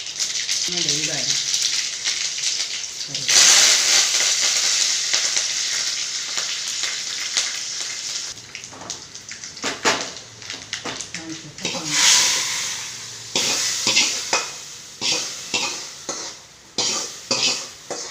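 Onion goes into hot oil with mustard seeds in a pan, sizzling loudly and close, then fading as stirring and scraping of a utensil against the pan take over in uneven strokes.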